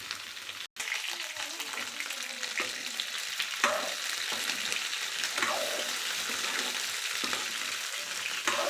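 Large pieces of bitter gourd frying in oil, with a steady close sizzle broken by repeated scraping stirs of a spoon against the pan.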